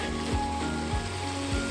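Tomatoes hitting a hot pan for Malabar chicken biryani, a steady loud sizzle of frying with faint periodic stirring scrapes and no talking.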